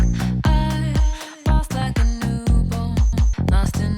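A rough mix of a full song plays loudly, with punchy drums, bass, and layered tonal instruments in a driving rhythm; no speech.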